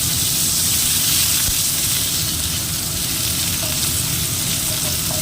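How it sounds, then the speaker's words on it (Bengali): Chopped pumpkin fries with five-spice seeds for a vegetarian chickpea curry, sizzling loudly and continuously with a dense hiss as it is stirred in the pan. "কুমড়োগুলো দিয়ে দিয়েছি দিয়ে একটু নাড়াচাড়া করে নিচ্ছি কুমড়োগুলোকে"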